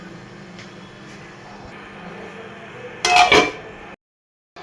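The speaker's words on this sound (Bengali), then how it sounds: "এখন ঢাকনা দিয়ে রাখবো" A metal lid set onto a cooking pot on a stove gives one short, bright clatter after a few seconds of quiet kitchen hum, then everything falls silent.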